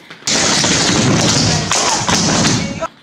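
A group in metal tap shoes taps together on a floor at a theatre rehearsal, producing dense, loud clattering in two bursts with a brief pause between them.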